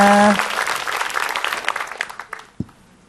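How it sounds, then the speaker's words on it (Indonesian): Applause from an audience at an Islamic religious talk greets a female preacher, Umi Maki, as she is introduced; dense clapping starts loud over a brief voice at the start, then thins out and fades over about three seconds. "tepuk tangan buat Umi Maki"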